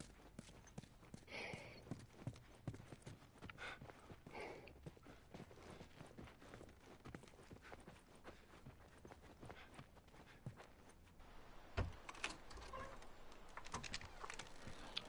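Horses' hooves clip-clop at a walking pace through a busy, steady mix of other sounds, with a brief sharp knock near the end.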